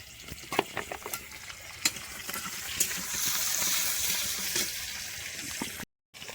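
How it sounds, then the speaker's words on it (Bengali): Spice paste poured into a pan of onion, tomato and cumin for a meat and fish curry, heard as scattered clinks and stirring that build into a steady frying sizzle before a short silent gap. "এবারে মশলাটা ঢেলে দেবো।"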